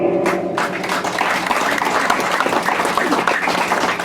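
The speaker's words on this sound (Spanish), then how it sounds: "Vamos a recibir con fuertes palmas a la licenciada Emperatriz Machaca Segura" Applause from an audience welcoming a speaker at a novel presentation in Huancayo, Peru: dense, steady clapping from many hands filling the room for about four seconds, with faint voices mixed in.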